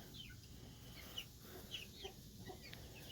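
Backyard chickens, including Americanas, a lavender Orpington and a blue lace Wyandotte, clucking softly in a coop, with a few faint, scattered calls over quiet background noise.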